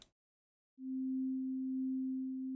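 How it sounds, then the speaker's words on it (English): Steady synth drone from three sine waves mixed together on a Eurorack and Bitwig setup, a single pure low tone that enters after a brief silence and holds evenly, alone. "we can already hear a sine, which is actually all 3 sine waves combined here"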